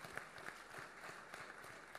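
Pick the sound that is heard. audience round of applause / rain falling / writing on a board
audience round of applause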